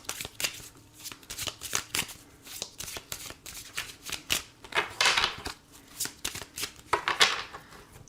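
Oracle cards being shuffled in a steady series of crisp riffling flicks and slaps, close and moderately loud, with no talking over them.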